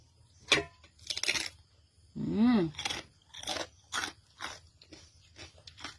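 Close, crisp crunching of fresh vegetables and shallot eaten with pounded eggplant, rattan shoots and sticky rice, irregular bursts of chewing with a brief hummed or murmured vocal sound in the middle.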